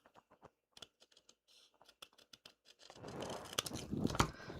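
Scissors snip through a small papercraft piece for a Christmas card in a quiet craft room, a string of short crisp cuts followed by rustling paper handling.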